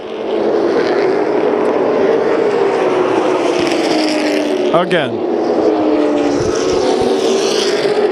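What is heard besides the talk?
super late model race cars racing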